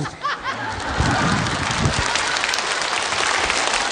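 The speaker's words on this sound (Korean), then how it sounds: "박수 박수." Audience applause for a Yanbian comedy sketch breaks out after a brief pause and holds as a dense, steady clapping wash, with a few laughs mixed in.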